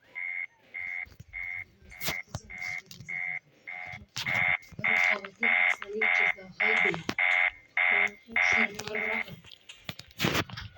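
Emergency lockdown alarm in the video game Terminal 13, a loud repeating electronic beep in even rapid bursts, with a synthesized announcement voice speaking over it partway through.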